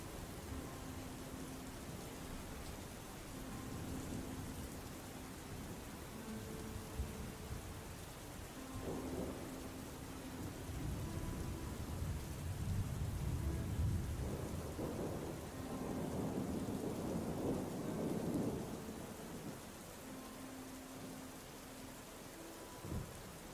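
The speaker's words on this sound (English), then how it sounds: "put the thunderstorm ambiance back on" Thunderstorm ambience: steady rain patters continuously while deep thunder rolls swell and fade in several long rumbles, fairly soft and distant, with no voices.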